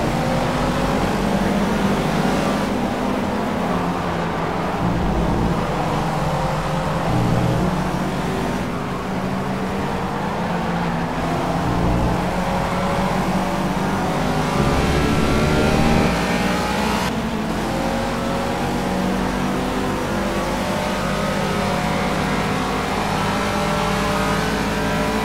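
Race cars in Project CARS lapping the Nurburgring in a multiclass sprint, engines droning loud and steady with rising and falling revs as gears shift, other cars running close alongside throughout.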